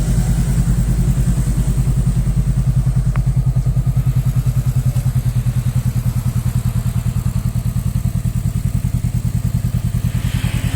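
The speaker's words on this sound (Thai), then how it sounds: "ขออนุญาตดับเครื่องยนต์ก่อนนะครับ" A 2015 Honda CB500F motorcycle engine idles steadily with a low, rapid, even thumping that stays constant throughout, close and fairly loud.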